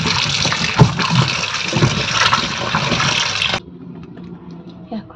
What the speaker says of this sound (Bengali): এবার ভালো করে শিমটা ধুয়ে নিই